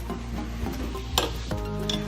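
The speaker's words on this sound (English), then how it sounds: "So we're gonna let this keep boiling here on the stove, probably give it about 10-15 more minutes." Homemade laundry soap mixture simmering in a pot on the stove, a steady bubbling hiss with a few sharp stirring clinks against the pot, close and fairly loud.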